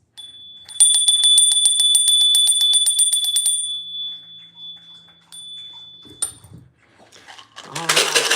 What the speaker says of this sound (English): I am going to first ring the bell and then I am going to shake the dice.